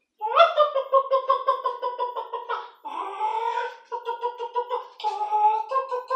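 A man imitates a clucking hen with his voice, giving rapid, rhythmic clucks in several bursts separated by short pauses, loud and close.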